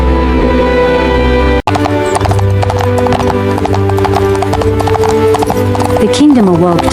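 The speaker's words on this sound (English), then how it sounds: "The kingdom awoke to the sound of hooves and hope." Horse hooves clip-clop steadily and loudly in a fairy-tale story scene, with a whinny, under continuous narration and background music.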